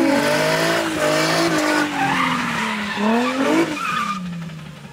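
Car drifting through a handbrake turn during a beginner drift lesson, with a long wavering tire squeal and skid that rises and bends in pitch over the engine, loud and close before easing off.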